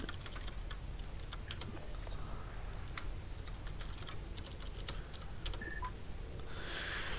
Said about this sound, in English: typing in commands is kind of your primary way of interacting with the game